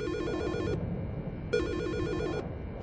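A phone rings in Silent Hill: Shattered Memories, two bursts of a trilling electronic bell separated by a short pause, clear and fairly loud over a low ambient hum.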